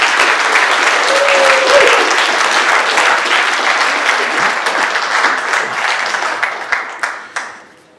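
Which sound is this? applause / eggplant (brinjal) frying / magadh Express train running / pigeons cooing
applause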